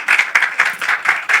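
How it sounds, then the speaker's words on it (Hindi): Rhythmic hand clapping from a small group at a press conference, steady pulses roughly every quarter second, fairly close and moderately loud. "लेकिन पहले एक बार जोरदार तालियां"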